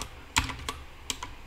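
Several quick clicks on a computer keyboard, close and quiet, with scattered keystrokes and short gaps between them in a silent room.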